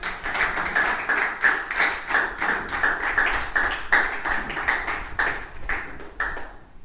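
A Pentecostal church congregation claps hands joyfully in praise, sharp, rhythmic claps in a steady beat about twice per second, close and clear, continuing for several seconds with no talk.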